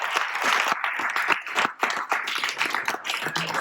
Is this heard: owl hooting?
no